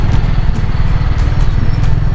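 Motorcycles pass by near the municipal hall of Kiamba in Sarangani Province: a loud, close, continuous engine drone with throbbing exhaust pulses and no break.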